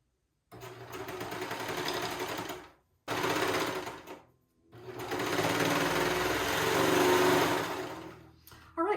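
A sewing machine stitches around fabric for a pair of spider-themed shorts, whirring in steady bursts that stop and start with short pauses between runs, loud and close with no talking.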